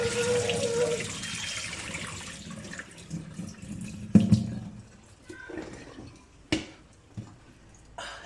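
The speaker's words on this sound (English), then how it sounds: "so I'm going to basically spill all of this water." Water pours and splashes out of a pot of chilies, a rushing stream that tapers off into scattered drips and clanks of the pot.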